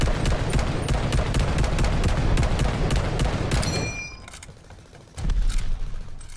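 Automatic fire from a drum-magazine rifle in Call of Duty: Vanguard, a loud rapid burst of shots running for about four seconds until the magazine empties, then a brief quieter pause before another loud blast.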